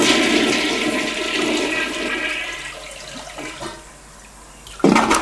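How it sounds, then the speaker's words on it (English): A toilet flushes with a loud rushing swirl of water that gradually drains and fades, followed by a brief burst of refilling near the end, close and alone. "Flush."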